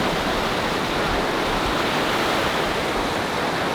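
Fresh water flows steadily in Patagonia, a loud, dense, unbroken rush of moving water close by.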